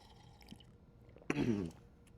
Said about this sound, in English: I need to drink some water here before I forget.